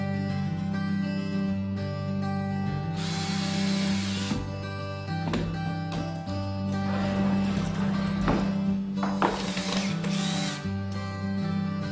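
A power drill driving pocket screws into a wainscot frame, heard as several bursts of whirring motor, each a few seconds long, over a steady background hum.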